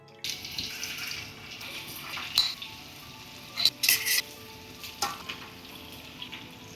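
Fish fries in a pan with curry leaves, a soft continuous sizzle broken by several sharper spitting pops and crackles near the pan.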